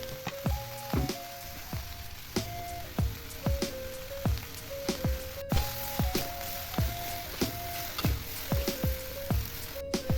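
Baby corn and carrots sizzle and crackle steadily in a hot pan with pepper and oyster sauce while a light, repeating melodic tune plays over the frying.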